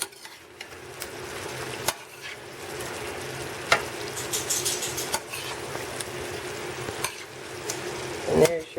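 Eggplant fritters simmer and sizzle in pomodoro sauce in a pan, with a steady bubbling hiss, a few sharp utensil clinks against the pan, and a louder scrape near the end.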